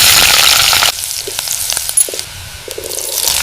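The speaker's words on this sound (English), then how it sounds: "First, heat the oil in a pan and add some chopped onion." Chopped onion sizzles in hot oil in a pan for samosa filling, a loud burst of frying at first that settles into softer crackling and popping.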